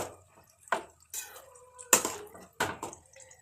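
Water drips and squishes from green chillies being prepared for pickle, a handful of wet, close spattering pops separated by short pauses.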